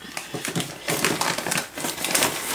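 Aquarium gravel from Walmart poured as a base layer for a moss vivarium: a close, loud, dense rattling clatter of small stones tumbling in uneven bursts, without speech.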